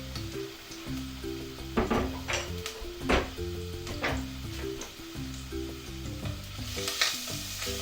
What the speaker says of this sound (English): Stir fry for, I would say, a couple of minutes.